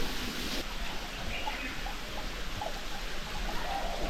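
A waterfall pours down in the distance at a tourist spot near Gwalior, a steady, faint broadband rush with no voices.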